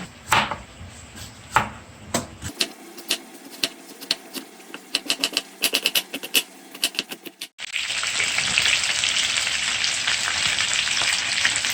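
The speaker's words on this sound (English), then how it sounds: "I'm just gonna leave the pot open for the next 7 minutes for it to brown on this side." Chicken adobo browning in an open pot: scattered crackles and pops first, then a steady, loud sizzle takes over for the last few seconds, with no voices.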